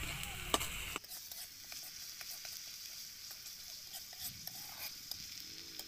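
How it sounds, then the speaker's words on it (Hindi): Onion paste for matar paneer gravy fries in a pan with a steady, close sizzle and occasional stirring scrapes, preceded by a brief louder burst at the start. "गाइस प्याज को ब्राउन होने तक भून लेंगे अच्छे से"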